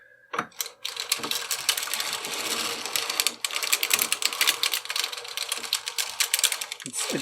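Vintage Ainslie circular knitting machine running after restoration, a dense, fast clattering of needles and cams that continues steadily at close range after an initial clunk, with no speech.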